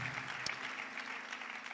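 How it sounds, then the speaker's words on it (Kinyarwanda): Faint, steady applause from an audience welcoming guests who arrived from Karangazi and Nyabiheke at a church gathering, a soft, continuous patter of clapping with one sharper clap near the start. "Bose rero mureke tubakomera amashyi kubera ko batwitabye."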